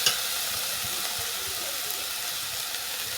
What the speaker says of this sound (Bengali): সজনা ফুলগুলো অল্প করে নেড়ে ছেড়ে